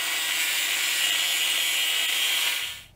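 Steady, loud, harsh cutting of metal square tubing, a continuous high-pitched grinding whine that runs unbroken and then stops just before the end.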